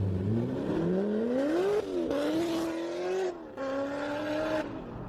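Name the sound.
car engine revving loudly at a car meet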